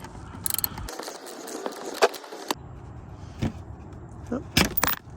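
A ratchet and socket loosen an oil pan bolt during a car oil change, giving close, irregular clicking and metallic clanks in short bursts, with brief talk in between.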